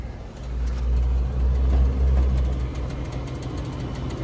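A 2022 5-ton Ruud heat pump starting up, a deep low hum that swells in the first seconds and then settles into a steady drone close by.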